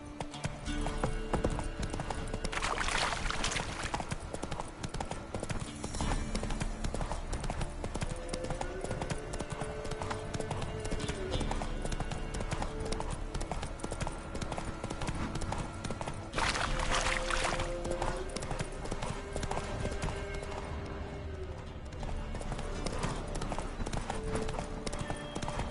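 Horse hooves clip-clopping at a steady pace while riding in The Witcher 3: Wild Hunt, a continuous rhythmic beat under game ambience and music, with a brief whinny-like sound midway.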